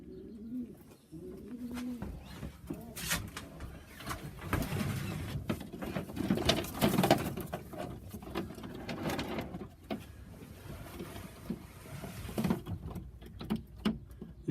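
Young Sheffield and Pilot Cross Sheffield pigeons coo softly in a loft, with low repeated cooing and rustling, flutters and small knocks scattered through the clip, fairly quiet and close.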